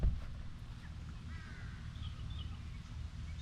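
A crow caws a few times outdoors in a nature setting with geese nearby, the calls moderately distant and fairly faint over a low steady background rumble.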